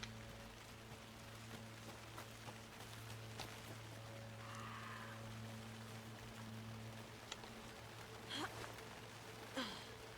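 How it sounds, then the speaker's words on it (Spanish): Steady rain falls across a flooded area in the video game Alan Wake II, a continuous wash of drops layered over a low, even ambient drone, with no voices. "Sonido de lluvia relajante."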